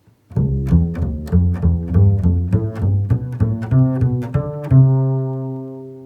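Bass guitar playing inverted scales, a steady run of plucked notes with clear attacks stepping through the pattern, ending on one long sustained note that rings out, played alone and close.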